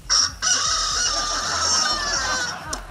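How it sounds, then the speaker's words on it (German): A recorded rooster crow plays from the sound module of a talking trash bin, part of a Bremen Town Musicians sound sequence: one long, loud electronic cock-a-doodle-doo lasting nearly three seconds, heard alone. "Das war der erste Stadtmusikant, das war der Gockel."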